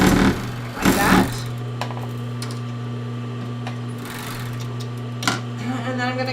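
A sewing machine stitches straight across a sports bra with a steady mechanical hum and buzz, close and continuous, broken by a few short clicks and bumps.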